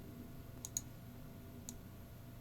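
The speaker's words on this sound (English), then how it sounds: "I'm clicking Control D to duplicate" Keyboard shortcut keys clicked while working in the Unity game editor: three faint, sharp taps, two close together and one a second later, over quiet background hum.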